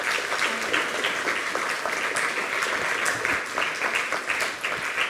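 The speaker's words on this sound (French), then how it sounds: "On peut applaudir, voilà." An audience applauds steadily in tribute to Christian Fréchette, a late cooking teacher, with dense sustained clapping throughout and no talk over it.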